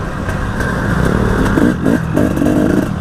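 An enduro or dual sport motorcycle riding along a dirt trail holds a loud, close engine drone with slight rises in revs and some rattling clatter throughout.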